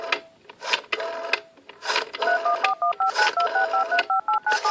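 Push-button telephone keypad sending DTMF tones: after a patch of faint background noise, a quick series of steady dual-pitched beeps, each short and evenly spaced, rings out clearly with no speech.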